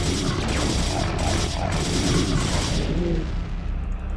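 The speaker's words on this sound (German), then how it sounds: "Artanis braucht einfach mal zwei Schüsse für einen Raumjäger" Rapid laser shots and explosions crackle in StarCraft: Brood War, a dense, loud barrage of blasts and booms running steadily throughout before thinning slightly at the end.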